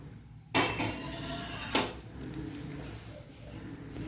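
A utensil knocks against a pan while stirring a tomato and potato curry, giving two distinct metallic clanks followed by softer scraping over a steady background hiss.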